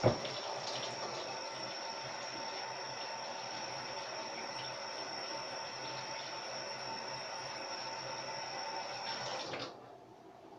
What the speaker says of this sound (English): before we do anything, I'm going to wash my hands